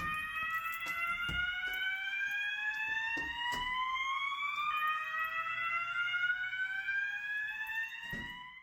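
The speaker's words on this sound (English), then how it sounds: "the sound of our really bizarre fire alarm" A bizarre-sounding building fire alarm wails continuously, its rising electronic tones sweeping upward in repeated cycles, moderately loud with scattered clicks and knocks in the room.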